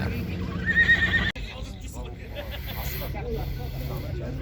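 A horse whinnies loudly near the start at a livestock market, a rising and falling call, followed by muffled background noise and faint talking.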